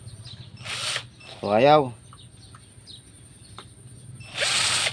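A power drill backs screws out of a Sharp timer in two short whirring bursts near the start and end. A rooster crows loudly between them, and a voice speaks briefly.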